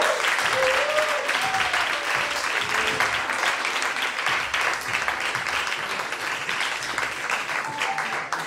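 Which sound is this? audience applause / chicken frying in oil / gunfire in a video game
audience applause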